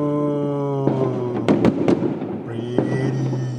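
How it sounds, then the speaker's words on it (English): Fireworks exploding during a New Year celebration: several sharp bangs and crackling bursts over a steady tonal background, some close and loud, with faint voices underneath. "Right now, enjoying the fireworks."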